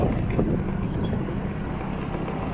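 Riding a borrowed Suzuki motorcycle, heard as a continuous low rumble heavily buffeted by wind noise on the microphone, loud and steady throughout with no voices.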